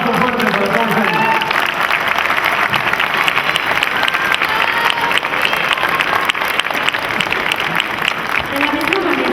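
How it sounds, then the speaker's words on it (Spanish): Sustained, dense applause from a large audience at a business conference, clapping steadily and loudly throughout without a break, with faint crowd voices mixed in. "Un aplauso fuerte para todos ellos."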